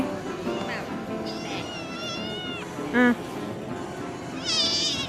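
A Persian cat meows several times at a cat show, drawn-out cries over crowd murmur, with one brief loud bump midway and a final longer wail.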